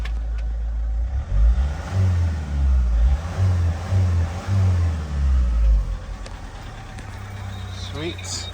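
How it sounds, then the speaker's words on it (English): A Citroen C4 Picasso 2.0 HDi diesel with an EGS6 gearbox is revved up several times in rhythmic bursts, the engine loud and close. Its note rises and falls repeatedly before settling back to idle. "I'm just gonna rev it up."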